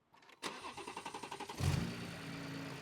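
A BMW M140i with a B58 engine and a newly installed fuel pump cranks with a quick run of rhythmic starter pulses, then catches and settles into a steady idle, close by with no talk.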